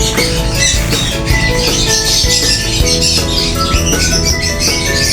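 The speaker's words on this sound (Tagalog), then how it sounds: "Ingay na mga ibon ko." Many birds kept behind a poultry supply shop squawk and chirp in a dense, continuous clamour, loud and close, with overlapping calls throughout.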